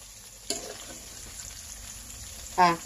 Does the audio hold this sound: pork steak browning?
yes